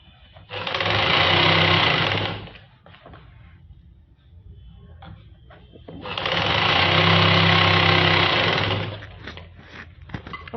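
Sewing machine stitching the hem of a palazzo, with a 1-inch margin left for lace; two loud, steady runs of whirring stitching of about two seconds each, separated by a quieter gap of handling noise.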